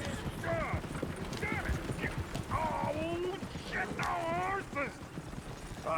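Horse hooves clip-clopping on a trail in Red Dead Redemption 2, a steady rhythmic trot close by, mixed with whinny-like calls and other game ambience throughout.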